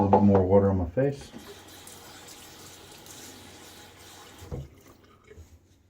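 Tap water runs steadily during a wet shave with a Karve Chris Bradley safety razor, a broad hiss that follows a brief burst of talk at the start and then trails off near the end.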